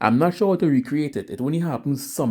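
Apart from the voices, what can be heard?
None of the usual background noises is heard.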